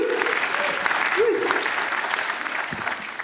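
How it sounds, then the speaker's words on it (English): A comic con audience in Liverpool breaks into steady, dense applause for guest Christopher Mintz-Plasse, the clapping filling the hall evenly throughout, with a brief tonal squeal partway through. "Give a round of applause to our questions"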